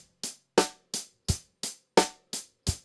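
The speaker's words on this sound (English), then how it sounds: "And if we play dead even eighth notes, we get a rock beat." Steady, even drum kit rock beat in straight eighth notes with evenly spaced, punchy hits and a heavier thump on alternating strokes, loud and close.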